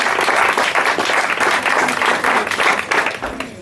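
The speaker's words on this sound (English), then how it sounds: "So please give Phil a nice round of applause." An audience at a community Shakespeare performance applauds an actor: a full, close round of clapping that holds steady and dense, then begins to thin toward the end.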